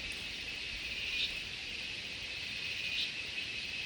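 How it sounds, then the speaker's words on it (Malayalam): Crickets chirp outdoors at dusk, a faint continuous high trill that swells slightly twice, with no voices. "തവളയും നന്നായിട്ട് കരയുന്നുണ്ട് പുറത്ത് ചീവീടിച്ച്"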